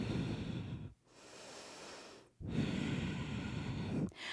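Slow, deep breathing during a strong vinyasa yoga flow, with three long, close, airy breaths separated by brief pauses, soft and unaccompanied by talk.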